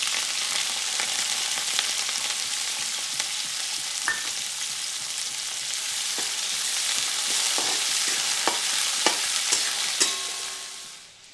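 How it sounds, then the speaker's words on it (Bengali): Chopped onion frying in mustard oil in a wok, a loud, steady, close sizzle with occasional clicks of a stirring utensil against the pan, fading slightly at the end; no talking. "এখানে পেঁয়াজটি কিছুক্ষণ ভাজা হয়ে যাওয়ার পর"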